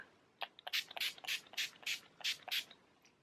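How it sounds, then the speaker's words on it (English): Quick bursts of mist from a NYX matte finish setting spray bottle sprayed over made-up skin, about eight short hissing pumps in a brisk rhythm, close and fairly quiet. "I am spraying this matte finish from NYX all over just to set my makeup"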